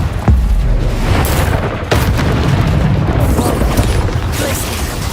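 Confringo explosion spell in the video game Hogwarts Legacy, heavy booming blasts with sharp onsets over a continuous loud rumble, several impacts in quick succession, close and forceful.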